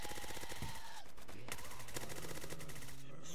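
Continuous rapid automatic gunfire from a PDW-R submachine gun in the Roblox game Zombie Uprising, loud and dense bursts with sharp cracks, running under a player's excited talk throughout.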